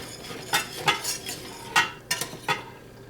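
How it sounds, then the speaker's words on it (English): A spoon stirring grits in a pot, giving half a dozen distinct scraping strokes against the pot over a soft background hiss, close and fairly loud, with no voices. "so now I'm just going to give it a stir"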